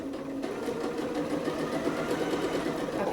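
A sewing machine runs a regular straight stitch through stretchy knit fabric, giving a steady, close mechanical whir with a rapid even needle rhythm for the whole stretch and no talking.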